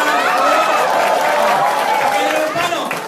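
An audience at an Alliance in Motion Global event applauds, a loud, dense, continuous patter of many hands with crowd noise throughout.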